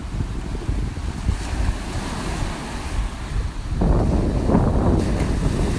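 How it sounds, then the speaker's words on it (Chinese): Big ocean waves roll and crash steadily on the seashore of Orchid Island (Lanyu) at sunset, with wind buffeting the microphone and the surf swelling louder toward the end; no voices. "今天的海浪很大哦"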